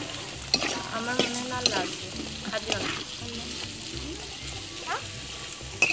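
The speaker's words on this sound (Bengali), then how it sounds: "এবার মাছ ভুনা হচ্ছে।" Fish frying and being stirred in a hot sizzling pan at an outdoor village picnic cookout, with steady sizzle, scraping stirs, and voices talking over the cooking.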